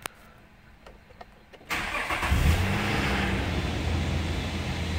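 A 3500cc Nissan Elgrand engine cranks briefly after a few faint clicks, then catches and settles into a steady, fairly loud idle heard close by.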